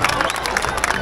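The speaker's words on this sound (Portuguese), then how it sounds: "Uma salva de palmas ao boiadeiro, por favor, por favor, por favor!" Rodeo audience applauding a bull rider after his ride, a steady wash of clapping and crowd noise with cheering, mixed with a loud announcer's voice.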